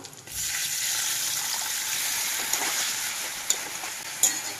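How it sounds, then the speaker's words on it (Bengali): Water poured into a spice masala frying in a pan for a Bombay duck fish dish, giving a sudden burst of loud hissing sizzle that settles into a steady bubbling fry with a couple of faint clinks. "এই পর্যায়ে একটু জল দিয়ে দেবো।"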